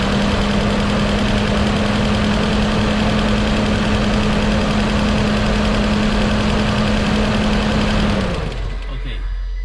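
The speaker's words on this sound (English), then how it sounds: "So I'm going to start the vehicle up again." A 2015 Nissan Caravan E26 van engine, suffering loss of power, runs at a steady, loud idle with a constant low hum and rattle, then cuts out near the end.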